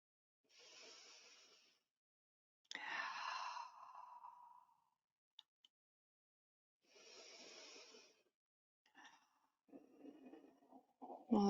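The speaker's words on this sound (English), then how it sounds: "Let's take about 3 deep breaths here." Slow deep breaths during a restorative yoga session, several long audible inhales and exhales separated by quiet pauses, close and soft, with a sigh-like quality and no talking.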